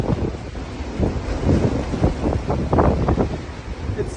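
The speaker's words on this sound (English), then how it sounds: "I mean, it just sounds like a tornado. Like the amount of wind aloft." Extreme wind storm with gusts near 90 mph in Massachusetts, a loud continuous roar buffeting the microphone with surging rumbles throughout.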